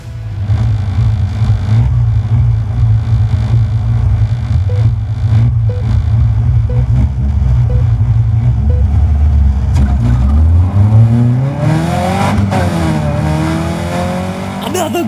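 Caterham race cars launch from a standing start at Silverstone, with engines droning steadily at the grid before the pack rises sharply in pitch and roars away together, loud and close, with talk over it.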